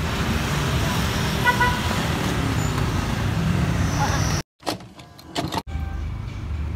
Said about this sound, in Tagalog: Traffic ulit!